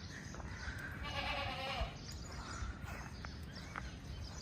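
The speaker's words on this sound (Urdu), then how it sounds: "جی جی بکرے, کیا حال ہے؟ پریشان نہ ہو" A goat bleats several times in a quavering, wavering call, moderately close, over steady low background rumble and outdoor noise, with no talk.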